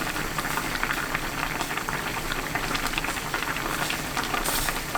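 A spicy canned-tuna gochujang stew with sugar added boils steadily in a pot, a continuous close bubbling and rolling simmer with a soft hiss and no pauses.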